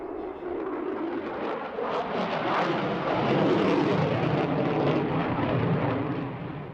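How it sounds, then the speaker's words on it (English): An F-16 Fighting Falcon jet roars overhead at an air display, a broad rushing rumble that swells toward the middle and lingers, steady and moderately loud, with no voices. "F-16 Falcons perform incredible maneuvers during air shows"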